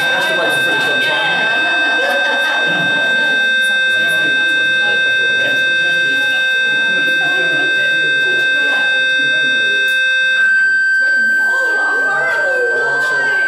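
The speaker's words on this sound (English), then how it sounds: "They've set the alarm downstairs." A building fire alarm sounds during an open residents' meeting on a housing estate. The electronic tone holds steady and loud through the whole stretch while people keep talking over it.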